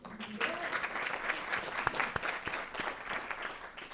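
Audience at a school board meeting applauds high school graduation rates above 90 percent; steady, fairly distant clapping from a modest crowd runs throughout with a few sharper individual claps standing out.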